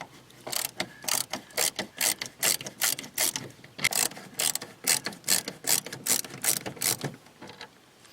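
A small Torx screwdriver turns screws out of a third-generation Firebird door panel, giving a rapid run of clicking ratchet-like bursts in quick groups, close and fairly loud, with a brief pause midway.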